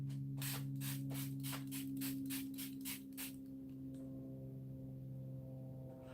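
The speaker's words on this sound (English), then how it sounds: "I'm going to spray my face actually with the LA Color setting spray" A quick series of about ten short spray bursts of LA Color setting spray onto a face, in a steady rhythm, close and soft, followed by a low constant hum.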